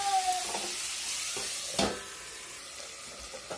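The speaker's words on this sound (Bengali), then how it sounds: "এখন আমি টমেটোগুলো দিয়ে দেবো। ভালোভাবে মিশিয়ে আবার ঢাকনা দিয়ে রাখবো।" Tomatoes are stirred into a sizzling Bengali fish curry in a pan, a moderate steady sizzle and hiss broken by a few scraping stir strokes, with one sharper scrape near the middle and no talking.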